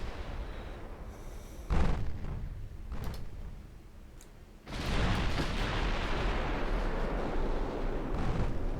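In a naval warfare video game, 8-inch and 15-inch naval shells fire and strike ships: a sharp boom, a lighter thud, then a heavy blast that rolls into a sustained roaring rumble.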